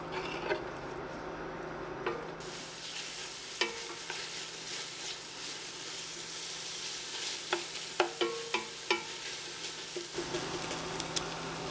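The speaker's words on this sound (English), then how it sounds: "We're going to stir these over a medium heat for about 5 to 6 minutes" Jalapenos and onions sizzle in a pot over medium heat while a spoon stirs them, a steady frying hiss broken by scattered taps and scrapes against the pot.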